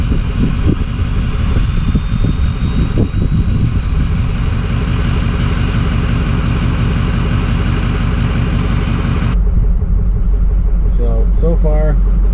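A Ford Powerstroke diesel truck with a 4-inch turbo-back exhaust runs with a loud, steady, rough engine rumble close by; the tone shifts partway through to a deeper idle, with a voice talking faintly near the end.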